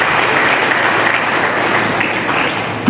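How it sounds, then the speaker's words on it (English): Sustained, dense applause from a convocation lecture audience, steady and loud throughout without a break, filling the hall evenly from start to finish. "Please, a round of applause for them."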